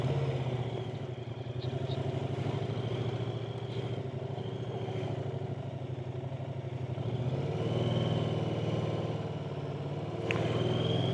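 A Moto Guzzi motorcycle riding through the tunnels of the SS36 near Mandello del Lario, its engine droning steadily and loudly with a rising rev toward the end, wind and road noise filling the enclosed space.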